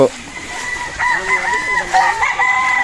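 A Kelso gamecock, a fighting rooster kept among battle stags, crows loudly and close by in one long drawn-out call. Low clucking and farmyard noise sit underneath.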